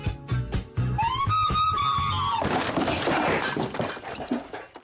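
Link clumsily playing all eight siren instruments in a Zelda game, a loud jumble of tonal melody lines that gives way to a dense, noisy smear of clashing sounds.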